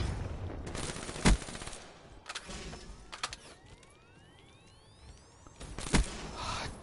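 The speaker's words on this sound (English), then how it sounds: "I shot a teammate just now, he scared me." Video game gunfire during team play: loud sharp bursts of automatic shots at the start and again near the end, with faint scattered shots and sweeping mechanical tones in between, no talking.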